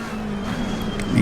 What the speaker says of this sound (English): I'm driving the 720 McLaren